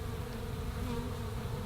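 Honeybees at a hive being fed, many of them buzzing together in a dense, continuous close-up drone that stays steady and alone throughout.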